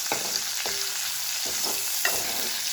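Garlic and green chilli frying in oil for toor dal, a steady sizzle broken by several scraping stirs of a spoon in the pan, close and alone with no talk.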